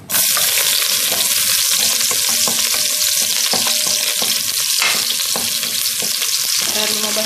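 Garlic fries in a pan for fried rice with a loud, steady crackling sizzle, broken by the scrape and clatter of stirring, and no talk over it.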